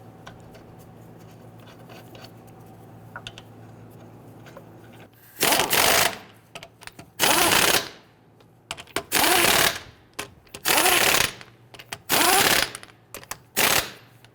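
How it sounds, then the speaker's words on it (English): An impact gun runs the lug nuts onto the rear wheel of a 2011-2023 Dodge Charger 3.6L V6, giving six short, loud, rattling bursts in a regular pattern after a quiet stretch with faint background hum. "I'm going to go ahead and install all of our lug nuts. Thread them all, and then we'll go ahead and snug them down."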